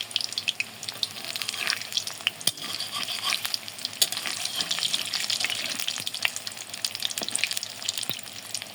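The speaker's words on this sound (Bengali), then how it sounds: "এটা লাল করে ভেজে নেব।" Potato and cornflour kathi rolls deep-frying in hot oil: a continuous close sizzle with dense crackling and popping, steady throughout.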